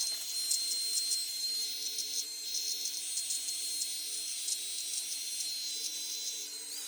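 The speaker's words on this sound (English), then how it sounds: "there was a second stronger vacuum setting. So see, it gets stronger." A Tails Up vacuum beard trimmer runs continuously, a steady high-pitched whine over a low motor hum, close and unbroken for about seven seconds.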